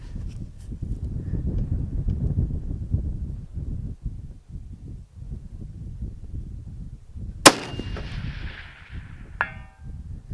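.308 DMR rifle firing 175 grain Sierra MatchKing match ammunition outdoors in wind: one sharp, loud shot cracks over steady wind rumble, followed by a ringing tail and a fainter distant impact about two seconds later.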